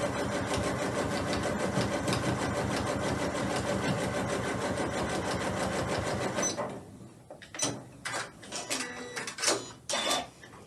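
A sewing machine set to a long stitch tacks down quilt sashing, its needle whirring in a steady rapid rattle for about six seconds before stopping, followed by a few faint knocks and handling sounds.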